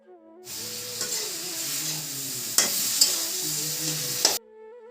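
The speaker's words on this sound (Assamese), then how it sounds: "প্ৰথমে বিলাহীখিনি অকণমান ভাজি লওঁ" Tomatoes frying in a pan give a continuous loud hiss and sizzle that starts abruptly and cuts off just as suddenly, with a few sharp scrapes of stirring, near and steady, and music playing faintly underneath.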